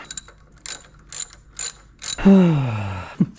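A ratchet wrench clicks in several quick bursts while removing the carburetor from a Honda CT90 motorcycle, close and crisp, followed by a long, low voiced groan or sigh.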